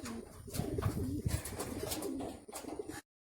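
Pigeons coo softly nearby in a series of low, throaty, rolling calls repeating over a few seconds, fairly quiet, before the sound cuts out.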